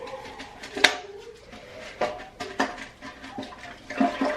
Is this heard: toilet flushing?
yes